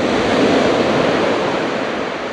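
Ocean waves break and wash onto the beach at Las Grutas, Argentina, a loud, steady rush of surf mixed with wind noise and no voices.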